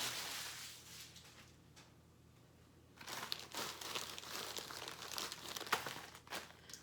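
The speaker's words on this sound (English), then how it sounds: "I put everything in Ziploc bags just about" A Ziploc plastic bag handled up close, soft crinkling and rustling that pauses briefly, then returns in denser bursts of crackle, quiet overall.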